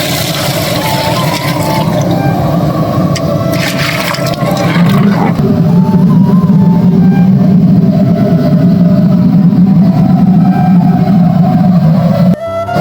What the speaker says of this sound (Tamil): பருப்பு ரசம் இந்த மாதிரி கொதிக்கணும்